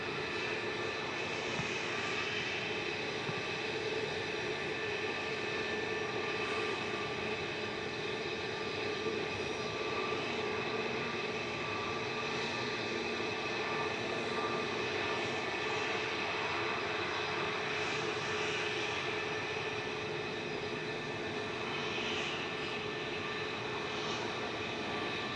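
Airbus airliner jet engines at Manchester Airport make a continuous, even roar with steady whining tones layered over a broad rumble, holding at a moderate distance with no voices.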